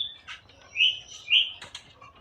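A hand-held pigeon flaps its wings in two short bursts as it struggles to get free, close and soft, with faint chirps in between.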